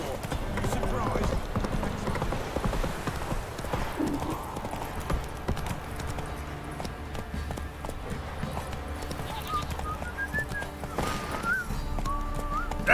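Roach, Geralt's horse in The Witcher 3, trots along with steady, rhythmic clip-clopping hoofbeats up close. The hooves carry on under game ambience, with occasional whistling tones.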